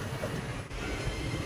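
The Chennai Central–SSS Hubballi Express runs along the track, a low steady rumble of rolling wheels heard quietly from inside, without breaks.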